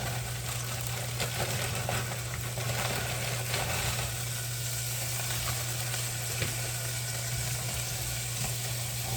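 Frozen green beans sizzle steadily in hot bacon fat in a pan, a loud, continuous frying hiss that holds without pause, close up and with no one speaking.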